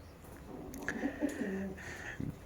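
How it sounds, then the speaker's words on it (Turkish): Pigeons in a loft give soft, low cooing calls, faint and close, over quiet background noise. "Zaten üç çift kuşumuz var."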